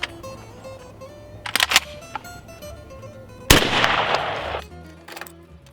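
A shotgun fires a reloaded Winchester AA shell: a few sharp mechanical clicks, then a single loud, close blast that rings out and decays over about a second.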